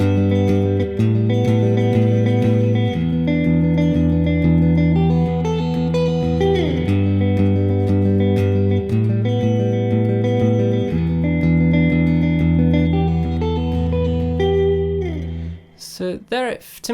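Electric guitar playing a math rock part with a bouncy triplet feel, picked with a plectrum: sustained chords and ringing notes shifting steadily in a clear, repeating pattern, loud and close, ending with a few sharp scrapes.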